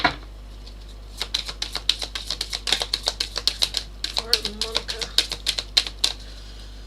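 Rapid, crisp shuffling of tarot cards, a flurry of quick riffling snaps close by, with a brief murmur of talk partway through.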